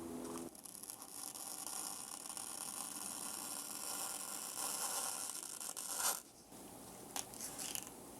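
Double-sided adhesive tape being peeled from inside an iPhone 15 Pro Max during battery replacement, a long, steady, faint tearing hiss that stops abruptly near the end, followed by a few small clicks.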